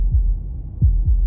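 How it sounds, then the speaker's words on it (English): Deep heartbeat thumps from the video game Slay the Princess, three low muffled beats at uneven spacing, close and heavy over a faint dull hum, with no voices. "That was the sound of a heartbeat."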